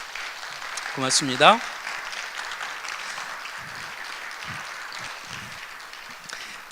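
Audience at a theology forum applauding to welcome four speakers, a soft, steady background patter of clapping, with someone speaking briefly near the start and a few low murmurs later.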